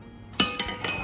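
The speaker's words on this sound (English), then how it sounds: "We're just going to spoon some of this sauce here, right, into our skillet." Braising sauce with vegetables from red-wine short ribs, spooned into a small skillet. Three light metallic clinks and scrapes of the spoon against the pan sound close and moderately loud over a quiet background, with no talking.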